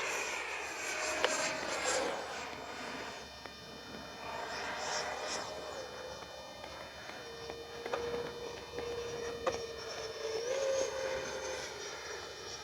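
A Freewing MiG-29 radio-controlled model jet flies past with a steady electric ducted-fan whine that rises and falls in pitch as it passes, against outdoor background noise.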